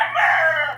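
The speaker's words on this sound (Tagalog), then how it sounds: "So ayan ang manok na naman" A rooster crows once nearby, a short loud rising call over faint low background hum.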